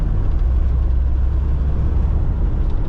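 Campervan engine labouring in third gear up a steep incline near Llyn Clywedog, a steady loud low rumble with no break, heard from inside the vehicle.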